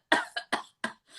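A person coughs close by, four quick harsh coughs in a row followed by a softer throat sound, with silence between them.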